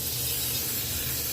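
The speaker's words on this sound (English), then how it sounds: "I just like to spray them, especially with the butter." A short, steady hiss of butter-flavored cooking oil spray coats potatoes in an air fryer basket, close and continuous with no talk.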